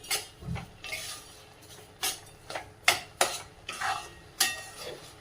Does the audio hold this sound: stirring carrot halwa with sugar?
yes